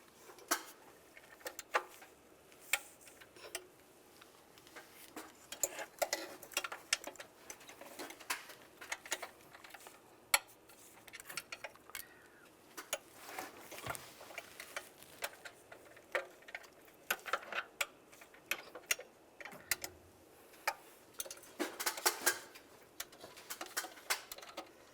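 Torque wrench clicks and light metal ticks sound close and quiet while tightening intake manifold bolts to 7.4 foot-pounds on a 2007-2013 Chevrolet Silverado 1500, scattered irregular snaps with no talk.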